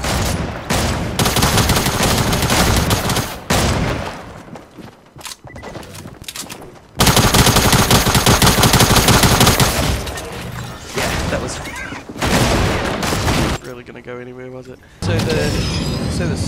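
Gunfire in the Fortnite video game, loud bursts of rapid shots alternating with brief pauses, mixed with other game sounds and a player talking over the action.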